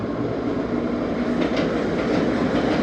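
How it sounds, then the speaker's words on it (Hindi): The Tezgam passenger train creeps slowly into a station platform, its wheels giving a steady close rumble with faint clicks and light squeals. "बड़ी धीमी धीमी रफ्तार में ट्रेन इंटर हो रही है"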